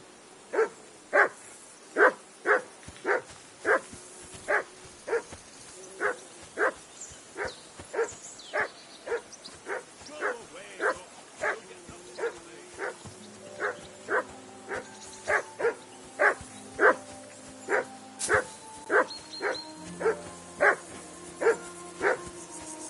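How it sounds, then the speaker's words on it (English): A dog barks repeatedly in a steady, evenly spaced rhythm in the medieval role-playing game Kingdom Come: Deliverance 2, clear and fairly close, with low background tones entering partway through. "Jesus, Henry, that barking's driving me nuts."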